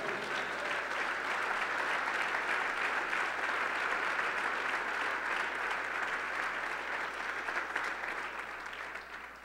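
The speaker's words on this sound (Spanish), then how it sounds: "Regálenle un aplauso al Señor por eso." A church congregation applauds in a sustained, dense wave of clapping, steady and fairly distant, fading slightly toward the end, with no speech over it.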